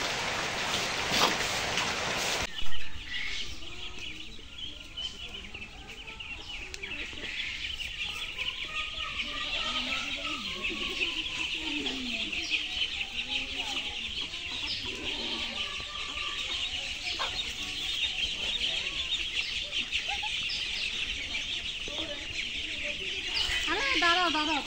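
A flock of ducklings cheeps and peeps busily while being fed outdoors on a rainy day. Rain patters steadily underneath, and a person talks at times.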